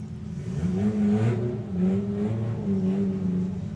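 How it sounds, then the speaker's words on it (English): A clean Ford Escort running in a 4-cylinder drag racing class, its engine revving loud and steady with rising and falling pitch, a strong continuous roar close by with no talking. "another very clean Escort running in the 4-cylinder class"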